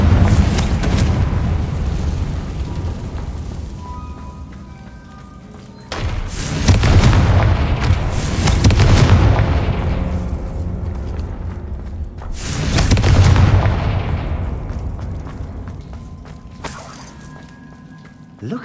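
Booming blasts from the Confringo explosive spell in Hogwarts Legacy erupt three times, each a heavy rumbling explosion that decays slowly, with spoken lines in between.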